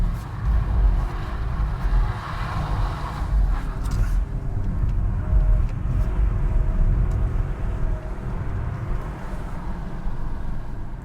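A BMW 218i Coupe engine roars steadily under full throttle in second gear, a loud continuous rumble from inside the car with wind noise through a partly open window.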